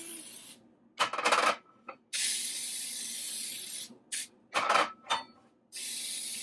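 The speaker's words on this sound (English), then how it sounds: "Just spray all around." Cooking spray hisses from an aerosol can into rum cake pans in several bursts, some long and steady, others short, with clanks of the metal pans being handled between sprays, close and clear.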